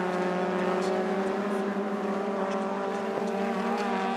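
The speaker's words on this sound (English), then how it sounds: "our man Ben's lapping one of his laps in car number 7 there." Honda Civic Cup race cars lapping Oulton Park in qualifying, a continuous droning engine tone with shifting pitch, heard at a steady level through broadcast commentary.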